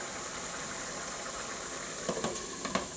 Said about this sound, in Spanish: Observe cómo hierve precipitadamente